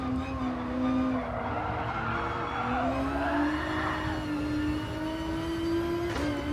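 Group 3 race cars, among them a Nissan GT-R, Toyota Supra and Porsche 911 RSR, racing in Gran Turismo, engines whining at high pitch through gear changes with tires squealing, loud and continuous.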